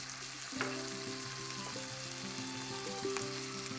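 Chopped tomatoes and onions sizzle and fry in a pan for a cauliflower sabji, a steady close hiss with occasional spatula scrapes and a sustained tonal hum underneath, no speech.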